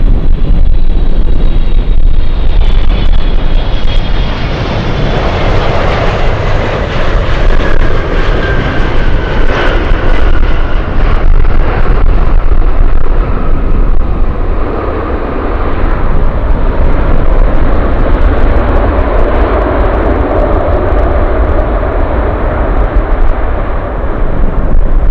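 Boeing 747 Dreamlifter cargo airplane arriving at Anchorage airport, its jet engines roaring loud and continuous for the whole stretch with wind buffeting the microphone, a descending whine fading over time, no talk.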